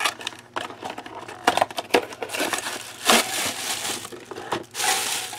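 Crinkling plastic and crunching packaging as a crafting kit is opened and unwrapped, including a Tim Holtz Ideology assemblage clock with a plastic glass front, in a series of close, irregular bursts of rustling and crushing with no talk.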